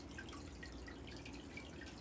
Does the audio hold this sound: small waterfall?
yes